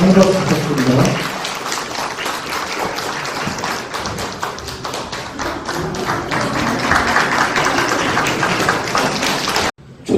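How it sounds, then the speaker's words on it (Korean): An audience at a poetry award ceremony breaks into sustained applause, a dense patter of many hands clapping in a hall that carries on at an even level for about ten seconds before cutting off. "한 박수 부탁드립니다"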